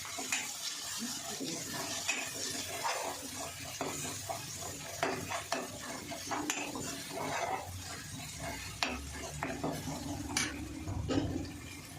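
Chicken seasoned with turmeric fries in a pan, a steady sizzle with continual scraping and stirring clatter of a utensil throughout.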